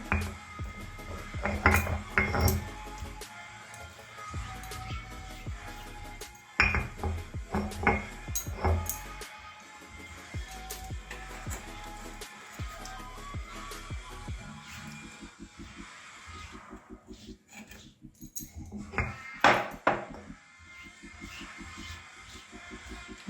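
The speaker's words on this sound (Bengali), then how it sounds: "সিলভারটা একটু ধুয়ে নিচ্ছি" A silver-coloured metal pot is washed and handled, giving irregular clanks, scrapes and metallic clinks at close range that come in bursts with quieter gaps between them.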